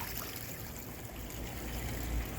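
Steady trickle of water running over riffles and small waterfalls in a stream built into a 55-gallon fish tank, a continuous close, even babble with no talking.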